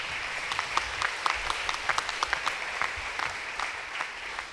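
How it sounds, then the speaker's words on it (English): A town hall audience applauds steadily for community partners at an evening event. The dense clapping rolls on at an even, moderate level, with a few sharper claps standing out from the wash. "Please give them a round of applause."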